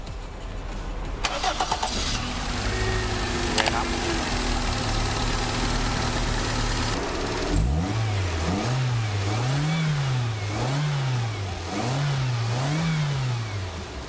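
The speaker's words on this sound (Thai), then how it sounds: "เดี๋ยวผมให้สตาร์ทเครื่องดูก่อนว่า เครื่องเนี่ย ทำงานปกติไหมเดี๋ยวเรามาดูกันครับสตาร์ทเลยครับ" A car engine fitted with Ravenol racing-grade oil cranks and fires, then settles into a steady idle broken by several rhythmic revs rising and falling, loud and close with no talk.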